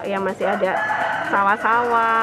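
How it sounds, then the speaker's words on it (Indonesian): A rooster crows in a rural village setting with fields nearby, its long drawn calls repeating close and loud while someone talks over them. "Jadi ada ayam berkokok"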